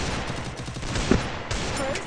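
Rapid gunfire bursts in a Free Fire match, a dense rattling stream of shots with a sharper report near the middle, continuous and fairly close with no talk over it.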